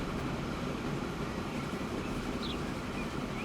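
Trains in the Transport Fever 2 video game rolling down a steep incline, a steady low rumble of rail cars with faint clatter, continuous and fairly quiet.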